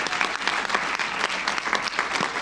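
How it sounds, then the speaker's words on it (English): Audience applause for the ALS Schweiz team at an event, a dense, sustained clapping from a room full of people, loud and even throughout. "The applause."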